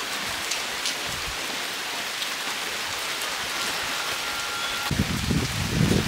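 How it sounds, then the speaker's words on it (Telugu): Rain falling outdoors beside the Godavari river, a steady close hiss of drops on surfaces throughout, with a louder rustling patter building near the end. "ఇంతలోనే వర్షం మొదలైపోయిందండి."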